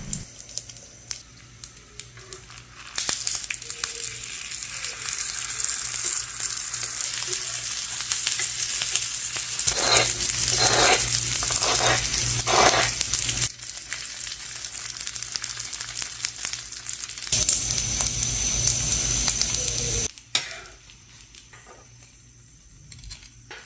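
Spring rolls shallow-frying in oil over medium heat give off a loud, steady sizzle that starts after a few quiet seconds and lasts most of the clip. A run of close clicks and stirring is heard midway, and no one speaks.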